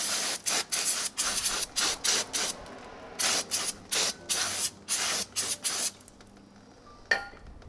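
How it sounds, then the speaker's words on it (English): Repeated short bursts of brake parts cleaner spray on a 2018 Subaru Crosstrek's rear brakes, a dozen or so quick hisses in an uneven rhythm, close by, ending with a faint metallic clink. "You can spray them down with brake parts cleaner."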